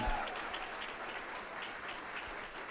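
Steady applause from a crowd at a campaign rally for Winsome Earle-Sears, a dense wash of clapping that holds at an even level throughout.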